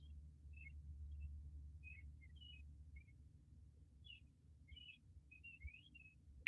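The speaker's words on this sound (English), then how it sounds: "A lot more birds now." Several birds chirp and whistle outdoors in short, scattered calls, fairly faint and distant above a steady low hum, with no talking.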